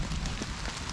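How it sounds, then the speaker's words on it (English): Hard rain patters steadily on a plow point tarp shelter at a bushcraft camp beside a fire, a dense, even hiss with no talking. "The rain is coming down harder"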